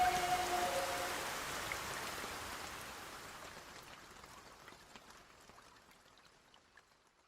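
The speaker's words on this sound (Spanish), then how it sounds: "Un día de lluvia cerca del lago Chungará." Steady rainfall pattering on a surface near Lake Chungará, loud at first and gradually fading away to quiet.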